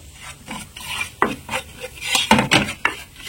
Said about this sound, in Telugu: దీంట్లో ఇప్పుడు నేను మైదాని కొంచెం బాగా ఉడికించాలన్నమాట. ఇలా మంచిగా ఫ్రై చేసుకోవాలి.